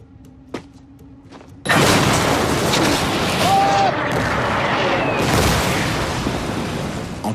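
A World War I trench comes under artillery bombardment: after a quiet opening broken by one dull thump, a loud, dense roar of explosions swells in and rumbles on continuously.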